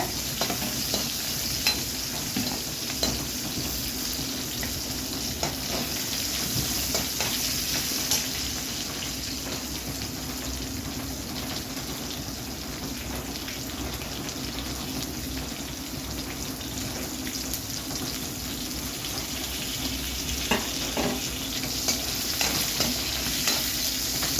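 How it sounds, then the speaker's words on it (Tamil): Small onions sautéing in oil in a pan for a fish curry, a steady continuous sizzle with occasional stirring scrapes, moderately close and free of talk throughout. "சின்ன சைஸ் வெங்காயம் போட்டு நல்லா வதக்கிக்கோங்க"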